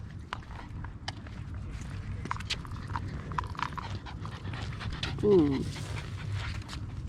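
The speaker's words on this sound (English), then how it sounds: "Look at this dog." A dog pants quickly and steadily at close range, with a brief whine near the end, while people talk in the background.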